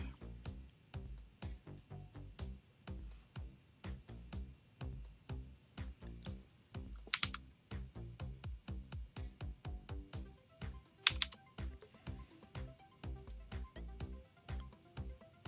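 Rapid, uneven keystrokes clatter on a computer keyboard, close and fairly quiet, with brief pauses between bursts of typing.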